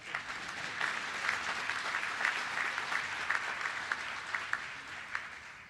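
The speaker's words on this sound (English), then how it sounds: "You may clap." Applause from the audience at a Montgomery County police academy graduation for the 75th class, even and sustained, heard fairly faint and distant with no voice over it.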